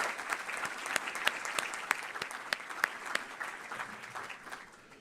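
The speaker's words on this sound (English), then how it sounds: "Round of applause for all of our sponsors, supporters, and for all of you for being here." A lecture audience breaks into warm, dense applause for event sponsors, steady for several seconds before gradually tapering off.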